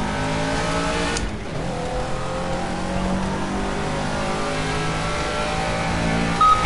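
A Caterham Seven classic race car in Project CARS at Monaco, its engine revving loud and close throughout with a sharp burst at the start, steady high-pitched drone and shifting pitch, no talk.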